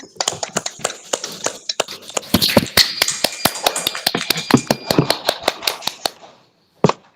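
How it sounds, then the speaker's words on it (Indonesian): Applause from participants in an online class comes through as a rapid scatter of sharp, crisp claps that build for several seconds and then fade out, ending with one last isolated clap. "Kita beri aplaus dulu"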